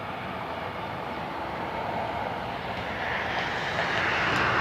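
A Frontier airliner at Cleveland Hopkins airport gives off a soft, distant engine rush that swells gradually louder over a few seconds, steady and unaccompanied by speech.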